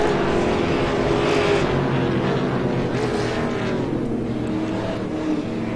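Mazda MX-5 Roadster race car running on track, a continuous buzzing engine note carrying steadily with faint shifts in pitch.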